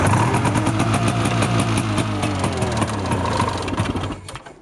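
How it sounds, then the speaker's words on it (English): An Arctic Cat Jag 340 snowmobile engine runs roughly after starting, a loud uneven idle with irregular sputtering pulses that fades toward the end. "This one doesn't like to start up very well. It sputters."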